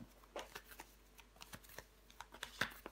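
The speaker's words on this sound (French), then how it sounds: "On va recouvrir des cartes." Tarot cards are laid down on a table in a quiet reading, soft scattered taps and light papery slaps in irregular succession, close but faint.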